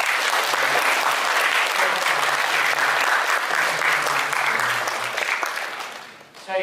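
An audience claps together at a Waisak commemoration held at a university, dense and loud sustained applause that holds steady for several seconds before tapering off at the end.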